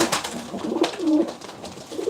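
Pigeons coo in low, throaty rolling calls, several overlapping phrases close by with faint background noise.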